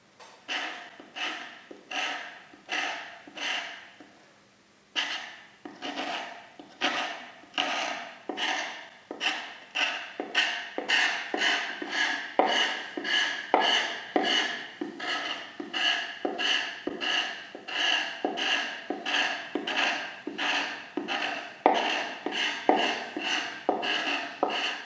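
Residue is scraped off test tubes in steady, rhythmic strokes, a long run of close, dry rasping scrapes repeating about once a second with a short pause early on, then quickening and growing denser.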